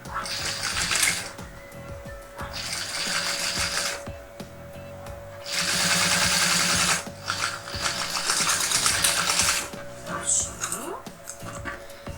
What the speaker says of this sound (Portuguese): E eu vou passar uma costura por aqui de novo. Costura de 1 centímetro.